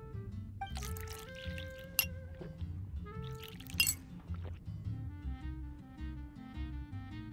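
Glass clinks and juice is poured in the Genshin Impact video game: a sharp chime, then a trickling pour, another bright clink and further pouring, all over soft game background music.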